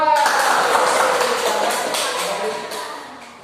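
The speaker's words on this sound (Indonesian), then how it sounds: "Tepuk tangan untuk kelompok 2." Classroom applause for a student group, a burst of many hands clapping that starts loud and gradually fades, with some shuffling and murmured voices in the room.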